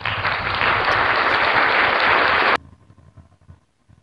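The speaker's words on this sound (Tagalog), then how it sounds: "Okay, palakpak naman dyan." An audience at a seminar on growing a channel gives loud, dense applause that holds steady for about two and a half seconds and then cuts off sharply, leaving near silence.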